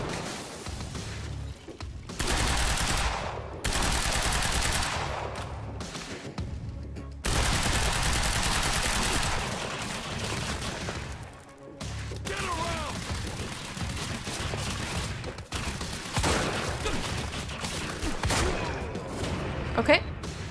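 Sustained gunfire in Quantum Break, rapid automatic bursts and fusillades rattling through much of the stretch, with pauses between volleys and a player talking over the shooting.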